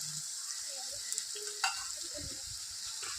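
Ginger-garlic paste and onions sautéing in a pan for a soya chunk dish, a steady close sizzle with a few soft spoon scrapes and clinks as it is stirred.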